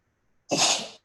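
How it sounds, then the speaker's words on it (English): A single loud, close sneeze bursts out after a brief near-silence, sharp at the onset and trailing off over about half a second. "no technology could prevent me from sneezing"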